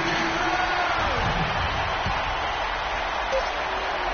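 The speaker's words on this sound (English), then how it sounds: "So the home crowd happy here as they get the victory." Home crowd in an arena cheering and applauding at the finish of a basketball game, a steady, broad roar of noise under a commentator's voice.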